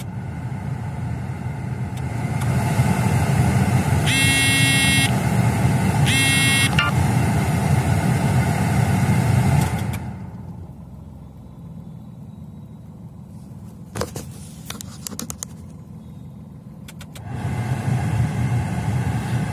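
A Tata Tiago runs with its AC blower on, a steady engine and fan hum filling the cabin that drops noticeably when the blower is cut, then rises again, with a couple of short beeps early on.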